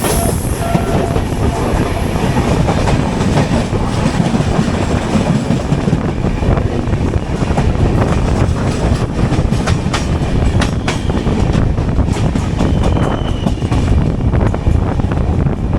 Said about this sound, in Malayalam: കന്യാകുമാരി നിസാമുദ്ദീൻ തിരുക്കുറൽ എക്സ്പ്രസ് ആയിരുന്നു ആ പോയത്.